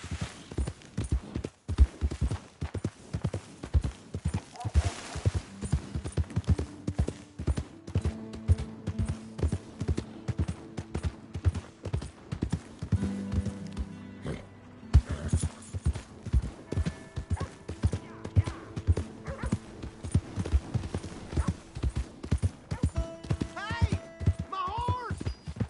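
A horse in Red Dead Redemption 2 gallops with fast, loud, rhythmic hoofbeats close by, running almost continuously with brief changes of pace, occasional snorting, and a voice speaking over it.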